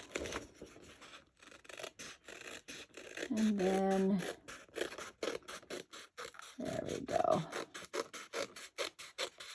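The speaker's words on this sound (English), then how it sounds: "a little fussy cutting there with our nice little scissors" Small scissors snip and rasp through paper in quick repeated cuts, with a person talking softly between the snips.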